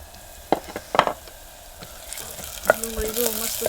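Onion fries in a pan with a low hiss, as a utensil knocks and scrapes several times near the start and again toward the end.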